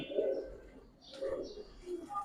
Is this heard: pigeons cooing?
yes